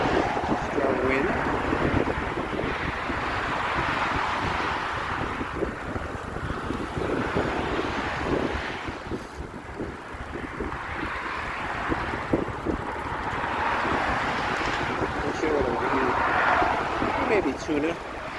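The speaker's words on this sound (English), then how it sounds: "it is windy. A very strong wind." Strong wind buffets the microphone during a bike ride through the woods on Long Island, a loud, continuous roar that swells and eases for the whole stretch.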